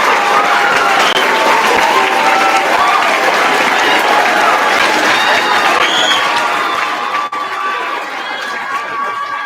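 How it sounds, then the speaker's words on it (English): A large audience cheers and applauds loudly and continuously for a visiting author, a dense roar of clapping and shouting that eases slightly near the end. "So let's give a huge cheer to Omar Mohamed."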